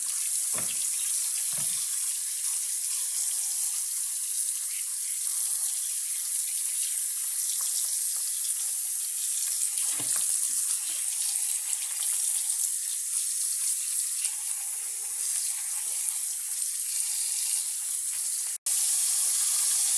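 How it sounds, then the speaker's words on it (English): Jackfruit, rambutan and longan rinsed under a running kitchen tap, a continuous steady rush of water close by with faint splashes and handling of fruit, cutting off abruptly near the end. "Now we're going to clean the jackfruit, Rambutan, and Logan."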